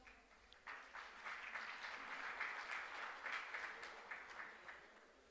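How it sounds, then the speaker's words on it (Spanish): Audience applause welcoming a panelist at a political and economic panel event, a steady, even wash of many hands clapping that swells after a quiet start and sustains for about five seconds, slightly distant and faint. "vamos también a recibirlo con un fuerte aplauso"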